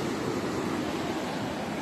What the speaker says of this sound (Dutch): En hierachter is de zee.